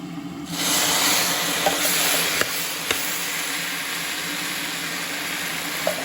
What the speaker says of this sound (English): at this point I'm boiling my hot water that I will add it to my rice